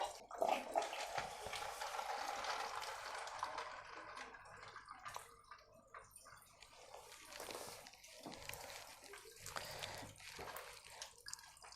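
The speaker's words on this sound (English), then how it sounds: "So let me turn the filter on and see what happens." Water from a KINTONS IQ380HF slim hanging aquarium filter pours back into the tank as a small waterfall, a steady splashing trickle with a few louder gurgles, close and continuous.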